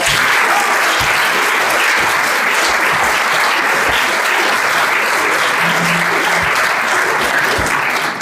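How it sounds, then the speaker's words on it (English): Loud, sustained applause from a symposium audience, thick and even throughout with many hands clapping close by and no voices over it. "let's give him a round of applause."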